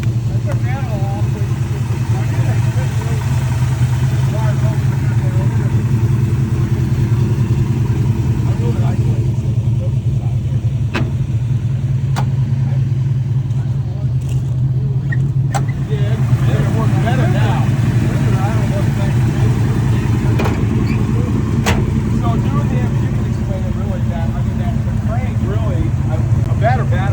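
A 1971 Plymouth GTX engine runs with a loud, continuous low rumble that stays steady throughout, while people talk nearby over it.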